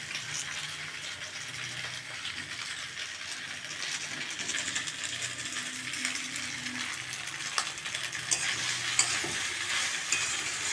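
Food is stirred and fried with Maggi masala in a pan, giving a steady sizzle under a continuous scraping and stirring rattle. There is no talk, and the sound grows slightly louder toward the end.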